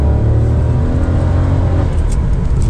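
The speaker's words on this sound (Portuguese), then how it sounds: "E quando a gente vai pro asfalto, a gente tem que testar, obviamente, a questão do desempenho do motor." A 2024 Fiat Strada Ultra pickup with an automatic gearbox and turbo engine accelerates on asphalt, a loud steady engine drone and road rumble heard close up with no talk.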